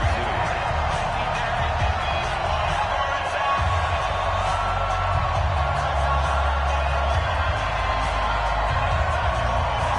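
Steady roar of a sold-out stadium crowd cheering at a Patriots versus Chiefs football video game in Foxborough, a dense continuous wash of noise with a strong low rumble and no clear breaks.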